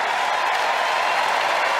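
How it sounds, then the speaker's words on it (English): Sustained crowd applause at a Wimbledon tennis match, a standing ovation for Brandon Nakashima, with steady dense clapping from a large crowd filling the whole stretch. "The crowd just show their appreciation for Brandon Nakashima. Fantastic ovation."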